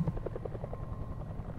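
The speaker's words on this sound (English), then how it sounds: "Sounds like a chopper." A helicopter in the horror adventure game Alpha Polaris, a steady rhythmic rotor thump that pulses evenly throughout, moderately loud and fairly close, with no talking over it.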